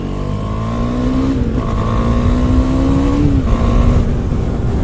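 A 2018 KTM 390 Duke single-cylinder motorcycle engine revs up and down, its loud, steady drone rising and falling in pitch a few times, heard alone with no voices.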